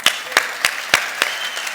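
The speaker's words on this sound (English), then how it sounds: "big round of applause for Adel" Audience applause at a tech conference for a speaker before a serverless computing talk: a short burst of sharp, evenly spaced claps, fairly close and clear.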